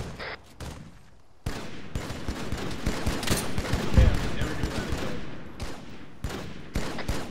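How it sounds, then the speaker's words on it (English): Gunfire in the military shooter Arma 3 near a tank, with loud rapid bursts and single shots cracking close by, layered over a rumbling battlefield with a few quiet stretches between volleys. "I just shot someone under the tank."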